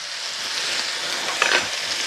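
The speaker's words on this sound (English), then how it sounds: "Let's stir this around. Let's get that softened a little bit." Celery sizzles in a pot for jambalaya as it is stirred, a steady bright frying hiss with a brief louder scrape of the spoon partway through, close and with no talking.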